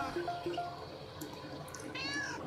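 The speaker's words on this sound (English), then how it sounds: "Finally, a cat in the game." A cat meows in the video game Voidigo, a few soft, faint mews with a longer drawn-out yowl near the end over a quiet background.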